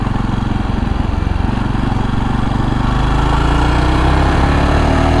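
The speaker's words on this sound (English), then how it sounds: "when you keep it a little bit lower in the revs, it just goes that tractory sound that we come to know and love" A Jawa Perak 350 single-cylinder motorcycle engine chugs at low revs with a steady, loud, tractor-like thump while riding, heard alone without talk.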